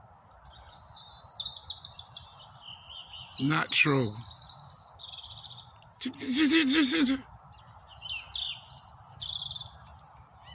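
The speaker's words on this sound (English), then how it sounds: "Hear the melodies of the birds." Birds sing and chirp in woodland, with varied melodic trills and tweets close and far, a loud burst of calls in the middle; a person speaks briefly among them.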